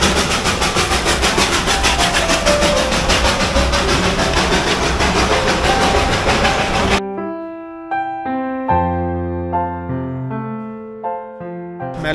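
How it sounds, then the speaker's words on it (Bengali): The Darjeeling Himalayan toy train rumbles past close by in a loud, steady wash of rail and engine noise for about seven seconds, then gives way abruptly to plucked tonal music. "আমাদের চোখের সামনে যে দার্জিলিং বিখ্যাত টয় ট্রেনটি এসে পড়বে তা কল্পনাও করতে পারিনি"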